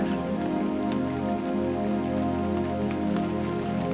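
Steady rain falling on surfaces, a dense, even patter of drops that continues unbroken at moderate loudness with no voices.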